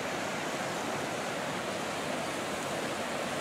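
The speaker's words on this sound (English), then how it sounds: "See the water going down there." Steady, broadband rush of water pouring from the Letchworth State Park trout pond outlet down into the gorge, swollen after a storm; a continuous, full roar with no voices.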